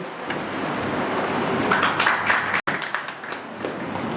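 An audience claps at a coaching institute's studio-opening and new-teachers' felicitation ceremony, a steady, dense wash of applause that swells near the middle, breaks off sharply for an instant, then carries on.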